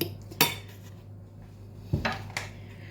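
Eggs and chopped onion stirred in a bowl, a few sharp clinks of utensil against the bowl, one early and a cluster near the end, quiet and close with no talking.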